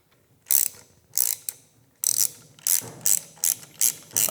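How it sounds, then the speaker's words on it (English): A ratchet wrench clicks in short, quick bursts of eight or so strokes while tightening a Harley handlebar grip, close and crisp with brief pauses between pulls. "when you're using your ratchets, hold on to your ratchets"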